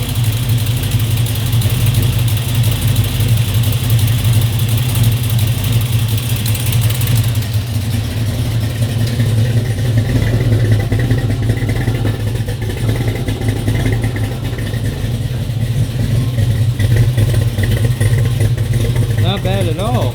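Buick Regal engine idling with a steady, rough low rumble close by, running continuously throughout; someone speaks briefly over it.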